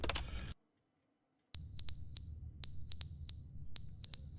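A fire alarm in The Stanley Parable Ultra Deluxe gives sharp, high electronic beeps in irregular pairs and bursts over a low hum, following a brief burst of sound and a second of silence.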